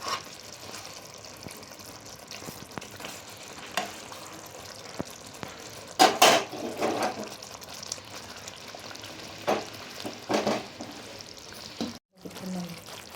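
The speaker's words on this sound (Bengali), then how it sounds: "একটু নাড়াচাড়া করে নেব" Doi katla fish curry with green chillies and coriander is stirred in a pan, with a faint simmer broken by a few scraping and clanking strokes from the utensil.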